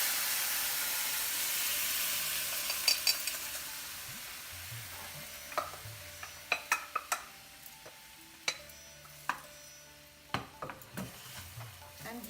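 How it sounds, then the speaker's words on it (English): Boiled dal stirred into a hot tempering of crackling cumin and golden coconut, a soft fading sizzle under repeated clinks and taps of a spoon against the pan. "And after the cumin starts crackling and the coconut is golden in color, we will now add the boiled dal."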